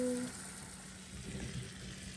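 Potatoes tipped into a spiced masala frying in oil give off a steady, low, even sizzle that stays fairly quiet and carries on without voices.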